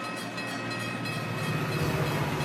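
A passenger train rolls along the rails with a steady, continuous rumble and wheel noise, no voices over it.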